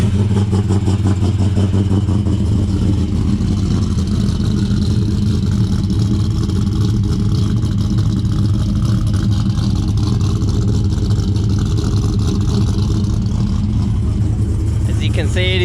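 A VN Commodore with a swapped LS1 V8 and full exhaust runs loud and steady for the whole stretch, its deep, throbbing rumble close up with no break.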